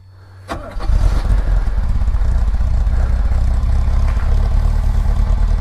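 A 1966 Mercedes 230SL inline-six cranks briefly with a sharp click, then catches and settles into a loud, close, steady rumbling idle with a slight uneven lope.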